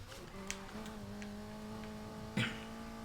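A Mini Countryman engine in the racing game NFS Heat, a steady buzzing drone held at high revs, with a couple of brief sharp clicks and a louder burst near the end.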